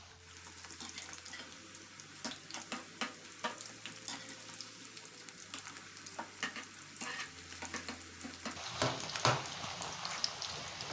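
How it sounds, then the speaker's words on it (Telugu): Chicken pieces fry in hot oil in a kadai for chicken Manchurian, with a steady sizzle, a low hum and intermittent clatter as pieces go in and are separated. The sizzle grows louder toward the end. "ఆయిల్ వేడయ్యాక ఒక్కొక్క పీస్ని ఆయిల్లో వేయాలి."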